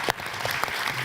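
Audience at a creative industries panel event applauding the panellists, a brief burst of continuous clapping with a few sharper individual claps standing out, fairly close and even in level.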